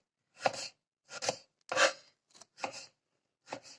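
Six crisp knife chops on a cutting board, slicing a vegetable into half-rings, close and dry, in uneven spacing with short pauses between strokes.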